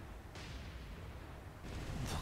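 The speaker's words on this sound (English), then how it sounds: "Oh no, those are gunfire. That's gunfire." Naval gunfire in War on the Sea, a World War II naval battle, comes as distant, muffled booming blasts over a constant low rumble, with a sharper burst near the end.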